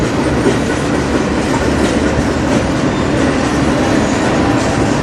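A long CN freight train rolls past on the Strathroy Subdivision near Sarnia, Ontario, a loud, steady rumble with continuous clickety-clack of wheels over rail joints and no voices.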